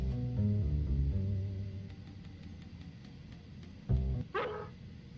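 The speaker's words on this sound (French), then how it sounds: "Ah, il y a ce maudit chien" A dog barks in the horror video game Harvester, with a few sharp barks standing out near the end over a low, droning game soundtrack.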